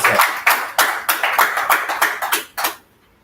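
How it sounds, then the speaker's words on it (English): A short burst of clapping for a speaker at a business summit, a dozen or so sharp claps from a small audience, close and fairly loud, ending abruptly in silence. "So please, a round of applause for him as he starts speaking."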